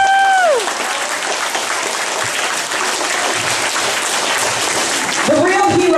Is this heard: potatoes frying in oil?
no